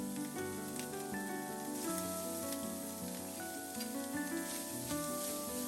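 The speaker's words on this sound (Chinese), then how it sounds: "维持小火慢慢炒，将黑豆豉的味道炒出来" Pork trotters are stir-fried slowly over low heat with fermented black beans, giving a soft, steady sizzle that stays faint beneath louder background music.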